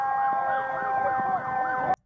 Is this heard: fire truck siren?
yes